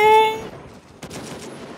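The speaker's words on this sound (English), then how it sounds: "Is that you getting shot at?" Gunfire aimed at the player in the video game Gray Zone Warfare, a burst of sharp shots followed by a steady stretch of rattling fire at mid distance, with no talk.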